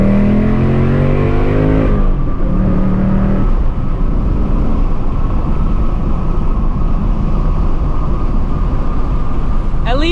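A 2024 Mustang GT's V8 climbs in pitch as it revs hard under acceleration, shifts, then roars on in a loud, steady pull with heavy low rumble inside the car.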